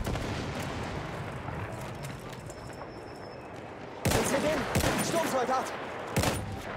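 Carcano M91 rifle firing in Battlefield 1: a low rumble of distant battle noise, then several sharp, loud shots in the second half, with a voice heard faintly under it.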